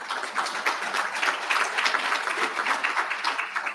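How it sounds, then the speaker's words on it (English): Applause fills the room at a Tri-County summit, a moderate, even patter of many hands clapping steadily for several seconds. "Give her another round of applause."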